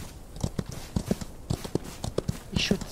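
Horse hooves clip-clop at a slow riding pace in a Wild West video game, a steady run of distinct close hoofbeats, with speech heard alongside.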